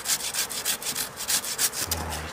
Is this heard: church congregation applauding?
no